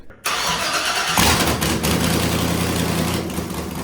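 An LS V8 in a desert race truck, just fitted with a new cam and VVT delete, cranks and catches, then settles into a loud, steady, lopey idle with a deep rumbling exhaust.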